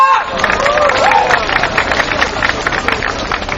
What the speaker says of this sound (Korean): 힘찬 발언을 해주신 정태호 목사님께 다시 한번 힘찬 박수 부탁드립니다